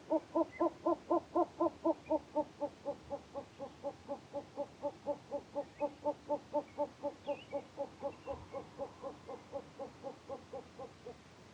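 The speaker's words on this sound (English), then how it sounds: "Next is the short-eared owl," A short-eared owl gives a long series of rapid, evenly spaced low hoots, some forty notes in steady rhythm, strong at first and gradually fading over about eleven seconds, with no voices present.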